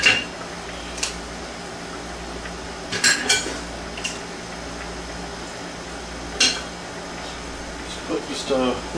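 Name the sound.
draining cooked mussels and putting them in a bowl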